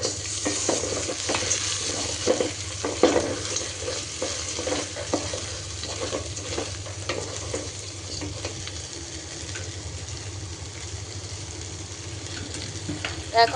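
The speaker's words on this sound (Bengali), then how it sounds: "কিছুক্ষণ এটা আমি নেড়ে চেড়ে ভাজা ভাজা করে নিয়ে" Ginger garlic paste stir-fries in a hot pan with a continuous soft sizzle and scattered scraping stirs throughout, with no talk.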